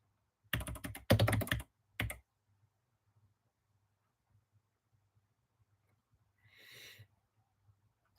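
A few quick bursts of keypresses on a computer keyboard as a shortcut is entered, clustered in the first two seconds, followed by near silence and a brief soft rustle later.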